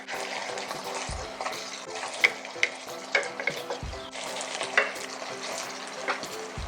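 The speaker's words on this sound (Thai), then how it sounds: "เราจะผัดเล็กน้อยนะคะ เพื่อให้น้ำชูชีซึมเข้าเนื้อปลา ทูค่ะ" Mackerel in red choo chee curry paste being stir-fried in a pan: a steady bubbling sizzle with repeated scraping strokes of a spatula and a few sharper clinks, close and continuous, no talking.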